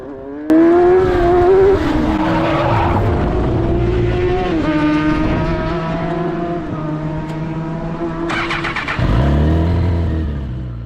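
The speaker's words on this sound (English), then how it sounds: "Turning the car back on, trying to judge if I can make the turn there." An F1000 race car at Oulton Park being restarted after a spin, its engine revving loud and close with rising and falling pitch sweeps, then a sharp burst of acceleration near the end.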